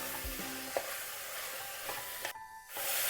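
Chopped vegetables for a masala dosa filling are stirred and sautéed in a pan, giving a continuous soft sizzle with occasional scraping stir strokes and a short quiet gap near the end.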